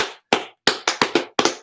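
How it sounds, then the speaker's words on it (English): Scattered hand claps from a small group, six or seven sharp bursts spaced irregularly in a quiet room, close and fairly loud, with no voices. "Everybody give Nick a clap."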